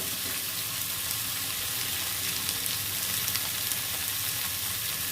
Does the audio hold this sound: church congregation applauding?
no